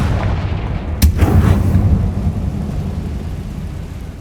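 Spell explosions from Bombarda and Confringo in the Hogwarts Legacy video game: a sharp loud blast followed by a deep rumbling boom that slowly fades, with no talk.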